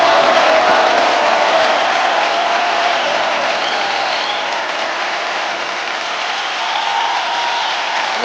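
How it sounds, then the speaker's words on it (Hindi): A studio audience gives sustained, loud applause and cheering for Ananya Panday on a comedy show, a dense clapping roar that eases slightly toward the end. "जोरदार तालियां हो जाए अनन्या पांडे के लिए।"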